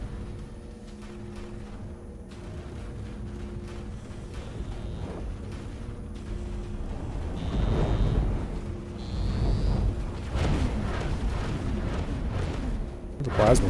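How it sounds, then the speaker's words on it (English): Plasma weapons aboard a spacecraft in X4: Foundations firing repeatedly, a rolling series of deep bursts and booms swelling louder partway through, over a steady low hum with a voice talking intermittently. "The plasma's firing at nothing."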